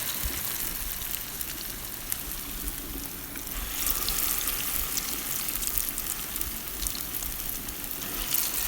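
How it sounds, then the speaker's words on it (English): Akara bean fritters fry in hot oil with a steady, close crackling sizzle that grows slightly busier partway through, with no voices. "This is how I fry my akara."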